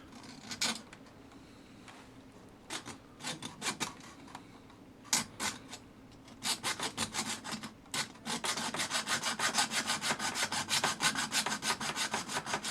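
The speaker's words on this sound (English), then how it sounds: "we're going to cut down and across the back of the guide with the hacksaw" A hacksaw cuts across the back of a fishing rod tip guide held in a tea towel, first in short hesitant strokes, then in a quick, steady rasping rhythm, quiet and close.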